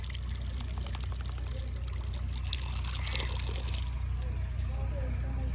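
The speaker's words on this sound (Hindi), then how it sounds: "हम अपने डॉगी को डाल देते हैं पानी, और हमारा डॉगी और पानी पिएगा।" Water poured out for a pet dog, a continuous close splashing trickle over a steady low rumble, with faint background chatter.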